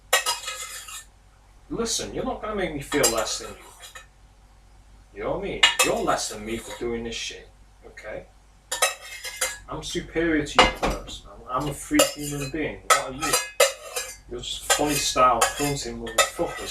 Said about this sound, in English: I'm just scraping up this food